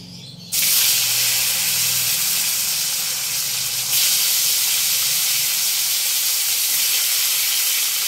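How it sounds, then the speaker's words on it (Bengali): Potatoes dropped into hot oil in a wok with a dried red chilli burst into a loud, dense hiss that starts abruptly, then swells again midway and holds steady close up. "এবার আলুগুলো দিয়ে দেবো কড়াই।"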